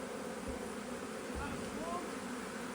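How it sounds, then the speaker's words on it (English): A large honeybee swarm streams into an empty wooden bee box near a shed, making a dense, continuous buzzing drone that stays fairly even and moderately loud throughout. "This is a big swarm, and look at them. They are just coming in and going nuts."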